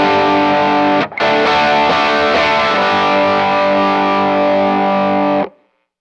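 An electric guitar played through a JHS 3 Series drive pedal rings out distorted chords, a brief cut early, then a long sustained crunchy chord that rings loudly until it is muted.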